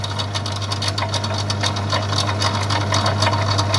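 A Myford lathe turns down a tiny 8BA screw, taking very slight shavings: a loud, steady mechanical hum with a rapid rhythmic clatter from the running machine, close and without speech.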